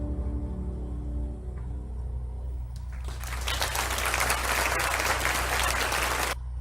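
In an intimate concert setting, soft piano chords fade out and a crowd bursts into warm applause, sustained dense clapping that stops abruptly near the end.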